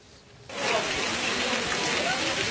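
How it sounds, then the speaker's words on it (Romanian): Heavy hail the size of walnuts pelts down at an outdoor swimming pool in Arcani, Gorj, beginning abruptly as a dense, loud hiss of countless impacts that continues without a break. "Ploaia cu bulgări de gheață mari cât nuci le-a pus pe fugă mai mulți tineri care căutau soarele la piscină în Arcan Gorj."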